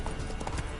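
Brief burst of galloping from Roach, the horse in The Witcher 3, a few quick hoof thuds in rapid rhythm at moderate level.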